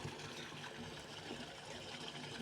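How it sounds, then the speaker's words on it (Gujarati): Water gushes as a tank overflows and spills down its walls, a faint, steady rushing wash heard from a distance without talk. "એ આવ્યું પાણી"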